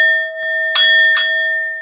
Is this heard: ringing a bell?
yes